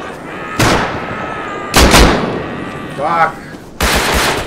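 Gunfire in the survival game Rust, with several sharp, loud shots spaced a second or so apart, each with a rolling tail, and a voice briefly cutting in between them.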